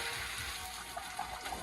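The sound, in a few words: pasta water draining through a colander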